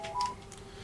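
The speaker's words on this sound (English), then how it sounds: "That's my phone, people." A short electronic phone alert plays as a couple of faint tonal beeps, quiet and alone for under a second.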